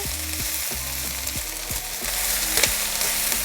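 Collard greens cooking down in a pan give a continuous close sizzle, with a spoon scraping and stirring in an irregular rhythm throughout.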